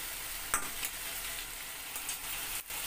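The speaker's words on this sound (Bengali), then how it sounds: "এখানে আমি মাছটাকে মিনিট খানেকের মতো একটু কষিয়ে নেব।" Tangra fish sautés in a pan with chopped tomato and green chilies. A steady, close hiss of frying carries on throughout, broken by a few brief scrapes of stirring.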